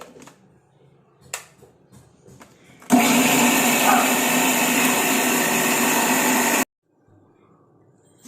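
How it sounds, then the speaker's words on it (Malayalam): Cumin and curd are ground in a blender that roars loudly and steadily for about four seconds and then cuts off abruptly, with quieter kitchen clatter before and after. "ജീരകം അത്ര ഇട്ടു, തൈരും കൂടെ ഒഴിച്ച് നമുക്ക് അരച്ചെടുക്കാം"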